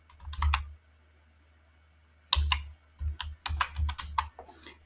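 Keystrokes on a computer keyboard while writing code, arriving in a short burst, then a pause, then several quicker clusters of crisp, close clicks with nothing else heard.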